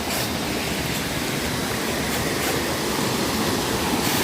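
River water rushes steadily and loudly along a shallow riverbed used for gold panning, a constant broadband roar with no pauses.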